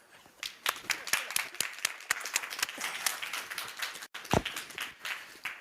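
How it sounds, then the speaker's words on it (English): Applause from the audience at a World Economic Forum annual meeting session in Davos, with clapping rising and falling in uneven bursts that break off briefly and then pick up again. "Feel free to applaud."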